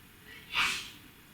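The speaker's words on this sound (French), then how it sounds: "Ma fille qui éternue." A young girl lets out a single quick sneeze, a short breathy burst heard slightly off to the side in an otherwise quiet room.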